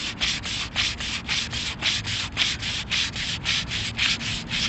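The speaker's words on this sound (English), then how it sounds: "we're going to take our block and we're going to sand" A sanding block rubs steadily back and forth across the car paint on a C4 Corvette door and mirror during refinishing. The close, even strokes keep a regular rhythm, roughly four per second, with no talking.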